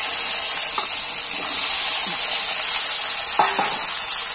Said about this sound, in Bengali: আলুগুলো ভালো করে ভাজা ভাজা হয়ে গেলে